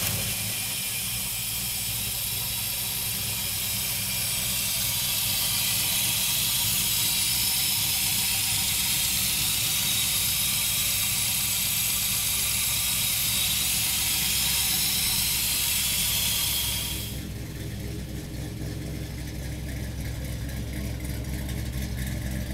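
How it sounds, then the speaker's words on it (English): A 1969 Chevrolet Camaro with an LS V8 runs loud and close, a steady broadband roar with heavy hiss that drops to a quieter, duller tone near the end. "we're gonna fire up this LS for you right now"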